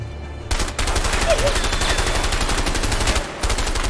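Rapid automatic gunfire rattles in the video game A Way Out as a dense, sustained burst. It is loud and close, with a brief pause just before the end.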